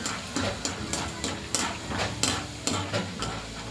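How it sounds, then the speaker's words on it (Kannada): Peanuts roast in a pan, with repeated scraping stirs and light rattling at a steady rhythm over a faint sizzle, fairly quiet and close. "ಕಡಲೆ ಬೀಜ ಮಾತ್ರ ಹುರಿದು ಹಾಕ್ತಾಯಿದ್ದೀನಿ"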